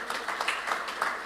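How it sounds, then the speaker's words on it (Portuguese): A church congregation claps together in a short burst of warm, even applause with a reverberant room sound. "Você pode dar um aplauso bem forte ao Senhor?"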